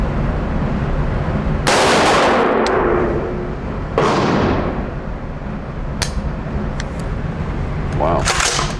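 An AR-15 rifle built from a Palmetto State Armory kit fires a few loud, sharp shots spaced seconds apart outdoors, each crack trailing off in a long echoing decay over constant background noise.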